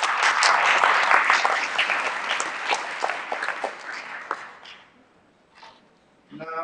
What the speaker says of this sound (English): I suggest a big applause to each of you.